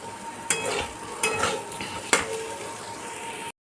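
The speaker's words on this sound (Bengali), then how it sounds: "এবার আমি আঁচ কমিয়েই কিন্তু এটা হালকা ভেজে নিচ্ছি।" Raw chickpeas lightly frying in a pan over low heat, a soft steady sizzle with three sharp stirring scrapes of a spoon against the pan, close and alone without talk.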